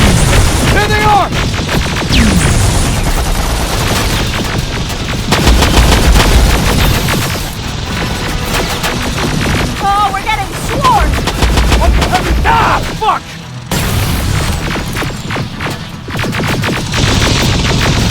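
Heavy gunfire in Terminator Extinction: loud bursts of automatic shots and booming blasts overlap with shouting voices and battle noise throughout.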